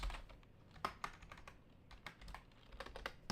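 Rapid clicking of a computer keyboard being typed on, in uneven bursts with a few sharper keystrokes, fairly close and with no one talking.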